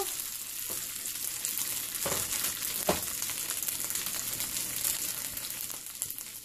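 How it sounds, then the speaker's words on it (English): Diced potato and green chilies frying in hot oil with spluttering cumin in a pan, a steady close sizzle with a few louder crackles and pops. "Then we'll be putting green chilies and aloo, that is potato, with it. Here goes potato."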